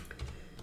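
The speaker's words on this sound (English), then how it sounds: "Typing is weird." Keys on a computer keyboard are tapped briefly, giving a few soft, close clicks in a quiet room.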